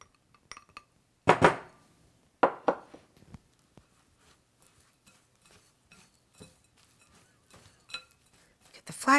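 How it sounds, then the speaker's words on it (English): A utensil scrapes and clinks against a bowl while flax egg is stirred into cookie mixture, a few sharp knocks at first, then softer, scattered taps and scrapes. "Get the flax egg all blended in there"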